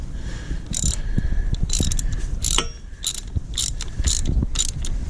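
Ratcheting clicks of a wrench tightening a bolt during an oil change on a new Kawasaki KX450F dirt bike, coming in quick bursts of mechanical ticking with handling noise between them, close by and fairly loud.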